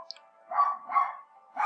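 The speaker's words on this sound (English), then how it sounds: "Sorry for that dog. It's not mine," A neighbor's dog barks twice at a distance, two short muffled yelps about half a second apart, with a third bark starting just as the sound cuts off.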